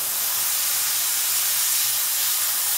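A steady, loud hiss of an aerosol spray can painting a King Tiger tank model, continuous and close with no pauses.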